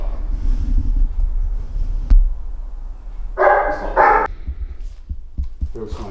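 Two loud, close barks from a dog around a garage where a cheap Nissan GTR is being looked over, following low rumbling handling noise and a sharp knock, with some faint clatter afterward.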